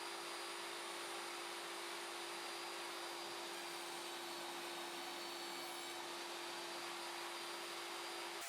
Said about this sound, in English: With a dado blade and the table saw sled, I'll make some grooves to install the drawer dividers.